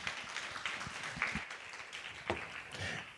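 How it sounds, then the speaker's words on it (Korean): A seminar audience at KAIST claps for a speaker being welcomed to the stage, a soft, scattered patter of applause heard from a distance in a hall, fairly faint and with no one talking over it. "큰 박수 부탁드립니다."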